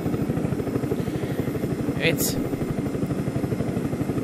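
A helicopter in the video game Far Cry 5 gives a steady, loud rotor chop with engine whine throughout, and a brief high whoosh partway through while a voice speaks over it.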